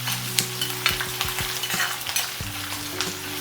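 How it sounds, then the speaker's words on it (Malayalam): Finely chopped ginger and green chilli frying in a pan for masala paniyaram, a steady close sizzle with soft stirring scrapes and a low hum underneath, no voices. "ഇഞ്ചി 1 തുണ്ട് നൈസായി അരിഞ്ഞത് ഇട്ട് കൊടുക്കുക"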